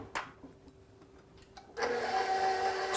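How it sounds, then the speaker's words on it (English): An electric hand mixer starts up and whirs steadily as it stirs banana muffin batter with chocolate chunks and walnuts. A few soft knocks come first, then the motor comes in loud and close for the remaining second or so. "I'm going to crank this back up to stir and mix it together"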